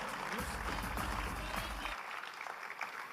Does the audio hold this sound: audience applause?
yes